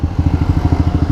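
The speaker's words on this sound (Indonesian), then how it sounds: "kalau kalian dengar suara knalpot gue itu kayak suara mesin gue" A Honda CBR K45R motorcycle idling after a week unused, its engine and exhaust thumping in a fast, slightly uneven pulsing rhythm, loud and close with a rough, throbbing low tone.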